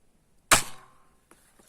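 A newly bought toy gun fired once at standing figures, one sharp loud snapping crack that decays quickly, followed by a faint small clatter.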